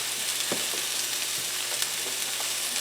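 Carrots frying in oil over high heat, a steady, loud, close hiss of sizzling with a few faint clicks of stirring underneath and no talk.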